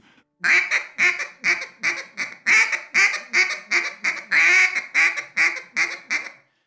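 Bouncing hen sequence on a duck call: a quick run of about fourteen raspy quacks in an even, bouncing cadence, close and clear with no voice over it.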